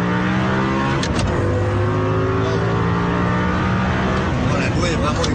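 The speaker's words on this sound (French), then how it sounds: "Le moteur fait un bruit quand même superbe" An Audi R8 V10 engine revs loudly and close by, its tone climbing and falling through several strong surges, with someone talking over the engine's roar.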